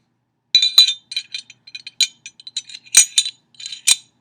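Metal parts of a Glock pistol clinking as the barrel is handled and slid back into the slide: a run of close, bright clicks and light metallic taps, with a few sharper knocks toward the end.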